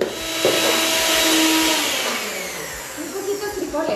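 A blender grinds cooked beans and mushrooms with bean broth, a steady straining whir that rises and falls, with someone speaking over it.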